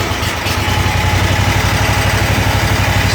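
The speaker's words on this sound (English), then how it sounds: "I'm going to jump on the mower, start it up, and back her out." A Kawasaki FX801V engine on a riding lawn mower catches and settles into a loud, close, steady idle with an even throbbing pulse.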